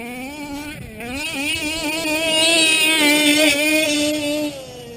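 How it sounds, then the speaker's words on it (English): A boat engine is opened up to full throttle for a run from one end to the other, its loud, close roar climbing steadily in pitch and holding strong for the whole stretch. No one speaks over it. "Let's rip her from one end to the other, people. That's called full throttle pull."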